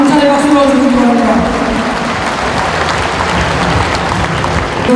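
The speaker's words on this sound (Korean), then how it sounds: "감사의 박수로 주시기 바랍니다" An audience in an indoor gymnasium at a veterans' day ceremony breaks into sustained applause, a loud, reverberant wash of clapping with a few voices audible early on beneath it.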